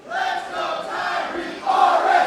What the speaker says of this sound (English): Crowd just getting behind RSP